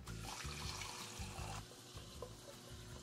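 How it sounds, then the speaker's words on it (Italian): Cold tap water runs steadily into a pot of freshly boiled eggs, a continuous close splashing and gurgling stream that shifts slightly in tone partway through as the pot fills. "spengo, scolo l'acqua e metto dell'acqua fredda, così si raffreddano prima perché le devo sgusciare"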